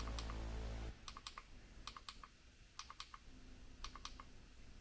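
A few light, sharp plastic clicks from the mode button on a 12-volt battery charger, coming as single and paired presses with short pauses between, close by and fairly quiet, after a brief low hum at the start.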